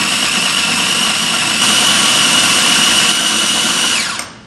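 An electric grinder pulverizing sambal ingredients for an eel dish, a loud steady high-pitched whir running continuously, then spinning down and stopping abruptly at the end.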